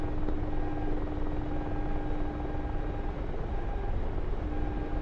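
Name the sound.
Hind attack helicopter in DCS video game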